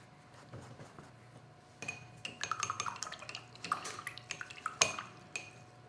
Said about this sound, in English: Aggressive water. I mean, brush cleaning.